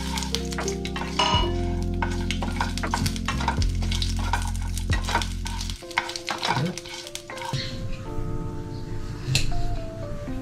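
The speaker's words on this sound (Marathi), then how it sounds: "यामध्ये थोडे तेल घेऊन खडे मसाले छान हलक्या फ्लेमवर भाजून घेतले." Whole spices roasting in a little oil in a pan over a low flame, giving a busy sizzle with repeated stirring and utensil scrapes against the pan, close and steady with a low hum underneath.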